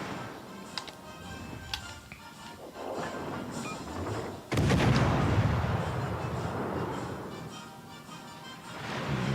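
Naval guns fire in the World of Warships: Legends game, with deep booming blasts and rumbling, including one loud heavy salvo midway that trails into a long roar.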